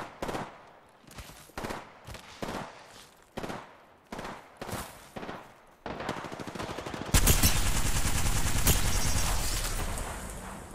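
Rapid automatic gunfire in the Apex Legends video game, several short bursts separated by brief pauses, then a sustained loud stream of shots with a heavy blast, close and dominant with no talk.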